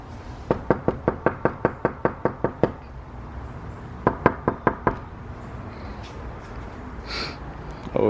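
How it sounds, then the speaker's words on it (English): Knuckles rap on a mobile home door: a rapid series of about a dozen sharp knocks, a pause, then a shorter burst of five more, close and clear, with faint background sounds afterward. "Always want to knock first."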